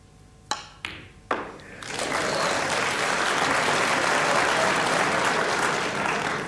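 Audience at a 1984 Crucible snooker match between Steve Davis and Jimmy White: three sharp cue-ball clicks, then a full, dense wave of applause that swells up and holds steadily.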